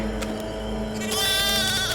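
Goats bleat in a wooded setting at night, one drawn-out nasal bleat overlapping another, loud and close with a steady low background hum and no talking.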